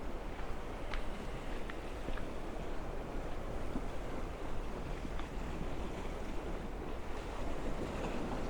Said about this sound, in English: See the water coming up and splashing on these rocks